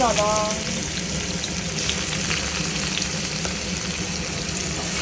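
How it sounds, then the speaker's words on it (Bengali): Garlic and dry red chillies sizzle steadily in hot oil for a tempering, a dense continuous frying crackle close up, with a brief faint tonal sound at the start. "এখানটাকে ফ্রাই করবো, বেশি করে ফ্রাই করবো, একটু ব্রাউনিশ হবে।"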